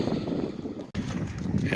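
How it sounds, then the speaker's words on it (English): Heavy, low rumbling wind buffets the microphone continuously, with a brief dropout midway. "Sorry about a lot of wind noise. It's really windy and cold."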